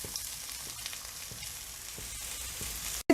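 Steady, soft sizzling of onions frying in hot coconut oil with cumin in a pan, with a brief clatter at the very end.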